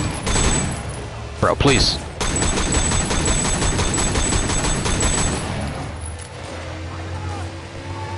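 Gunfire in the Sleeping Dogs: Definitive Edition video game, a fast burst of shots under steady game noise, with someone talking over it.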